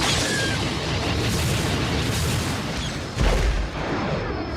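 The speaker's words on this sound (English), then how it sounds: "loosing a solid burst from all 4 of her lasers" A starfighter's four lasers loosing a solid burst, a loud continuous roar of blasts that swells briefly with a heavier boom near the end.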